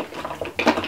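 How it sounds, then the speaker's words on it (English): A quick clattering jumble of metal utensils and small objects tumbling out together as a kitchen drawer is dumped, over in under a second. "You just dump the whole drawer in."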